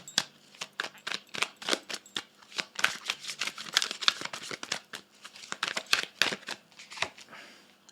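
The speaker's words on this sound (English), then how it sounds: "I'm going to just grab like a couple more cards, because I have a feeling that I need to." Tarot cards are shuffled and handled in a quiet room, a close run of rapid crisp riffling snaps and flutters in uneven bursts, with no voice over them.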